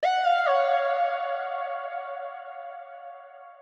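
A synth note drenched in a big reverb with a seven-second decay, a bright tonal chord that shifts once early on, then rings on and slowly fades, alone and fairly loud.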